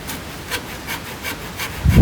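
Rhythmic rasping strokes of sanding on walnut wood, about four even back-and-forth passes, close by, ending with a louder scuff.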